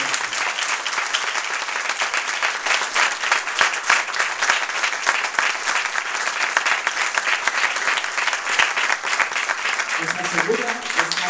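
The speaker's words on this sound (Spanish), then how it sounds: "un inmenso aplauso." Large audience applause at the unveiling of a wax figure at a Madrid wax museum, a dense, steady roar of clapping that holds loud for the whole stretch, with a voice starting to speak over it near the end.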